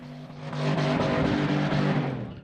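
Cars gathered for a night-time car club meetup roar steadily with rumbling, revving engines, loud and continuous with no talk.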